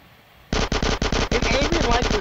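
Automatic gunfire in GTA San Andreas Definitive Edition, a fast loud burst of repeated shots starting abruptly after a quiet moment and continuing in rapid, closely spaced volleys.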